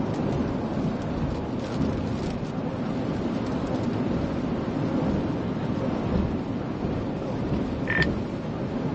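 Heavy rain from a storm drums steadily around a moving vehicle, a dense, constant roar without letup, with a brief faint tone near the end.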